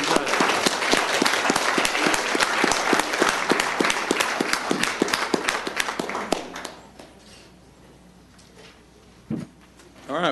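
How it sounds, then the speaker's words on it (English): A round of applause rings out in a county commissioners court meeting room, loud and steady for about six seconds, then breaks off sharply, leaving quiet room noise with a brief knock near the end. "let's give them one more round of applause."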